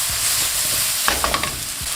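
Mushrooms sautéing in hot oil, a continuous moderate sizzle with a brief cluster of sharper crackles and pops midway, alone without talk.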